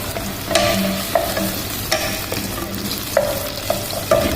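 Ginger garlic paste is stirred into bitter gourd frying in oil, giving a constant close sizzle with repeated spoon clinks and scrapes against the pan at uneven intervals.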